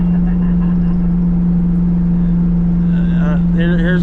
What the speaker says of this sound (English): We'll kick down a gear here.